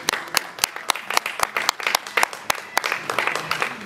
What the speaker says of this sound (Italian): la parola all'avvocato Minutillo, per il quale vi chiedo un applauso.